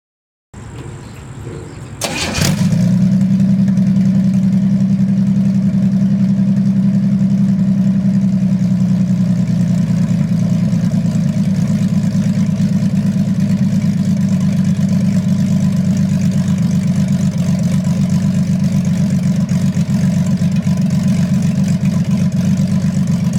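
A 1929 Chevy 250 inline six with homemade open dual exhaust headers fires up after a brief moment, then settles into a loud, steady, throaty idle that continues unbroken to the end.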